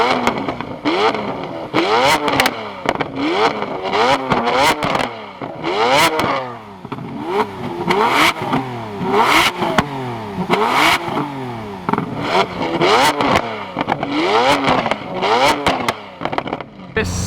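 A Lamborghini Aventador's engine is revved repeatedly with its exhaust valves closed, giving a series of sharp rising and falling revs close by, loud and continuous, with voices mixed in among them.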